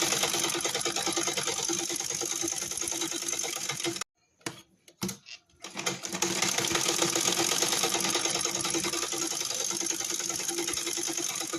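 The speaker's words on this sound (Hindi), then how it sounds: "इस पे सिलाई लगाएंगे।" A sewing machine stitches fabric in a loud, close, continuous whir, breaking off briefly for a few quiet clicks before running steadily again.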